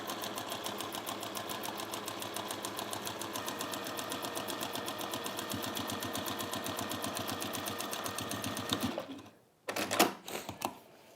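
A sewing machine stitches a folded fat quarter fabric bag along its centre line in a fast, steady, close run of needle clatter. It stops abruptly after about nine seconds, leaving a few brief handling noises.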